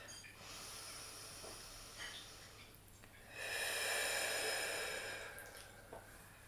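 A deep breath is blown out through the mouth in a slow, airy exhale that swells in the middle and fades, close and fairly quiet, with softer breaths around it.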